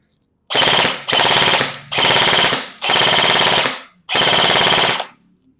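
Airsoft gun firing on full auto, five loud, close bursts of rapid mechanical shots, each about a second long and separated by brief silent gaps.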